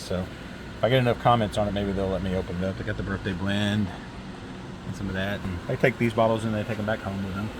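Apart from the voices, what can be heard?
fan running in a room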